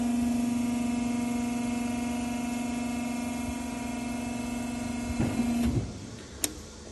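A 150-liter explosion-proof Sigma mixer with a tilting cylinder drones with a steady motor hum, then gives a few heavy clunks as the cylinder tilts back and the top lid shuts, ending on one sharp click.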